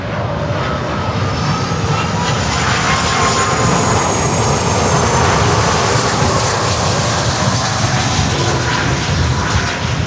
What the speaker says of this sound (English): Boliviana de Aviation 330-200. What a beauty.